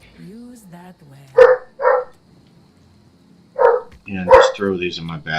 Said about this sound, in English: Sorry about my dogs.